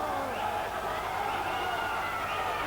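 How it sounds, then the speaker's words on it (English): A boxing crowd inside a marquee at the Nürburgring racetrack gives off a steady, fairly distant roar of cheering and murmuring, with a commentator's voice carried over it. "Crowd getting involved inside the marquee at the Nürburgring racetrack"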